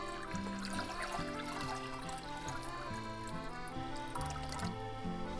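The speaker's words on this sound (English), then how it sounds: "We're going to pour the water right here to boil." Water poured steadily into a cooking pot on the stove, ready for boiling eggs, a continuous faint filling gurgle with a faint background tune, no talking.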